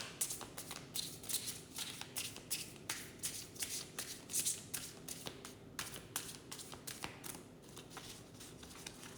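A deck of cards being shuffled for a reading, close and crisp, with a quick run of riffling flutters and taps repeating in an uneven rhythm, quiet against a soft background.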